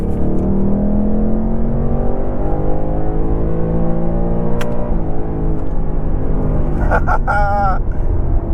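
A 2024 Ford Mustang GT Premium's engine roars loud and steady, pitch climbing as it revs hard toward redline, with a brief higher rasp near the end.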